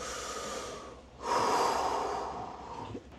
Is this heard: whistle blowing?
no